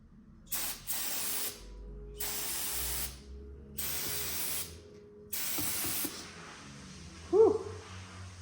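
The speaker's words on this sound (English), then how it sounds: "got some nice strong brake clean. We're gonna kind of give this thing the old batherino" Strong brake cleaner hisses from an aerosol can onto car parts in a garage, in four separate bursts of about a second each with pauses between, fairly close, followed by a faint sharp knock.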